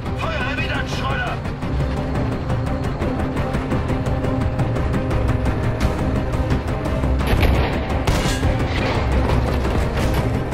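Artillery impacts and explosions pound through a Battlefield V video game battle, a continuous loud barrage of rumbling booms and crashes under a dense mix of combat noise, without a clear pause.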